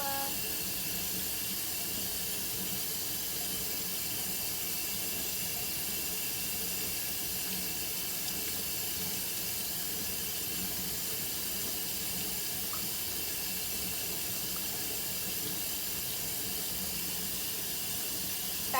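Tap water runs steadily into a sink as a spatula is rinsed clean, a constant hissing stream lasting throughout with no talk.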